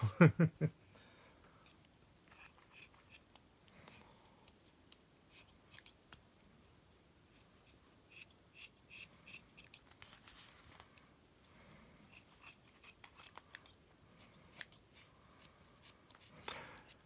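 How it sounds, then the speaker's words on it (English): Dull scissors snip through yarn repeatedly at close range, quiet irregular crisp cuts with faint rustling between them and no speech. "these scissors aren't the sharpest in the world"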